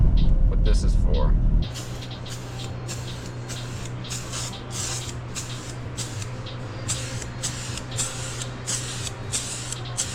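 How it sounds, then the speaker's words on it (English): Spray paint hisses in steady bursts onto flipped-over car side skirts for an Infiniti G35, a continuous close rushing hiss with rhythmic pulses after a brief louder rumble at the start. "Flipped them over, gave them a good coat. Good flip, good spray."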